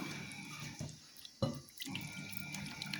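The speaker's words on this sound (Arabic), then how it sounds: "غنضيف شويه ديال الماء" Water poured in a small stream into a mixing bowl of Moroccan mrouzia spice mix with garlic and saffron, trickling and dripping for a few seconds with a brief splash near the middle.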